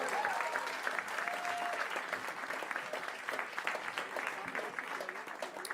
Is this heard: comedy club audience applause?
yes